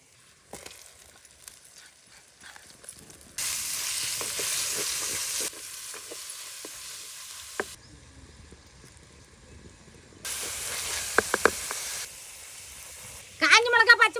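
Onions fry in hot oil in an outdoor village kitchen while being stirred, giving bursts of steady sizzle with scraping and clinking of a utensil against the pan, separated by quieter stretches.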